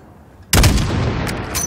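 A sniper rifle fires in the video game Call of Duty Modern Warfare (2019), a single sharp loud crack with a booming tail that rolls on for about a second.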